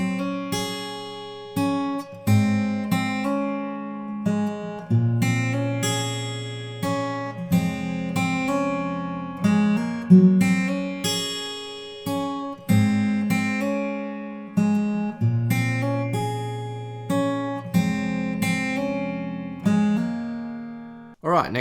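Fingerstyle acoustic guitar plays the intro of a song, a steady four-bar pattern of plucked bass notes and chords repeated, clear and close with no voices.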